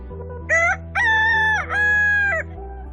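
A rooster crows nearby, giving one full cock-a-doodle-doo in several rising and falling segments over a low steady hum of background noise.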